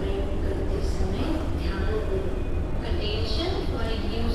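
Mumbai underground metro train running through a tunnel, a steady low rumble and rolling drone with faint high squeals, continuous throughout, with people talking over it.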